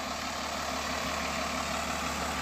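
A heavy road-building machine working on municipal dirt roads idles steadily, a constant low engine rumble with a whining hum, close and unchanging, with no voices.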